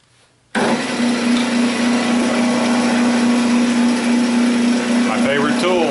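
A wood lathe starts up suddenly after a brief quiet moment and turns a tenon on the end of a split 2x4, giving a loud, steady motor whine with a constant hum that holds to the end.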